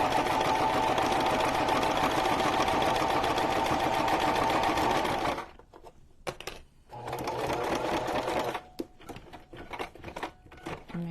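A sewing machine stitching ribbon onto a junk journal cover: a steady, fast mechanical whir for about five seconds, then short stop-start bursts of stitching with pauses in between, close and clear.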